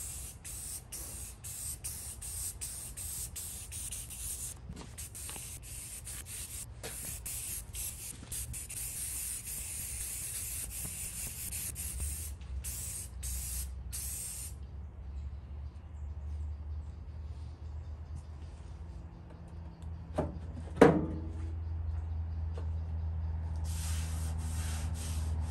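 Primer sprayed from a can onto a 1950s Craftsman wall-mounted tool cabinet: a steady hiss broken by short pauses, then quieter handling with a brief knock near the end.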